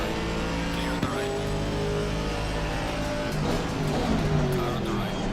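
Race car engine in Assetto Corsa Competizione droning steadily at high, strained revs as if held in the wrong gear, loud and continuous with faint tyre and track noise.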